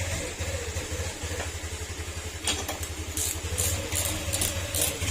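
A Honda Click 150 scooter, left unstarted for three years, idles steadily with a low, even throb, joined later by light metallic clatter and ticking, close by.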